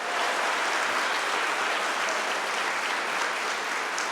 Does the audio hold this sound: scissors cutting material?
no